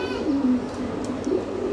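Domestic pigeons at a pigeon farm, low murmuring coos from a loft of birds, a continuous close chorus with no speech.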